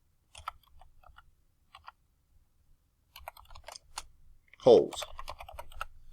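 Keys tap on a computer keyboard in short uneven runs as text is entered in drafting software, quiet and close, with a brief spoken word partway through.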